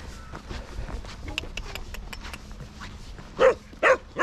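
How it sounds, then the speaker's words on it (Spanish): Dogs playing at a downhill bike park in Tenerife, with light scuffling and a few soft yips early on, then several loud, close barks near the end. "Con los perritos jugando ahí"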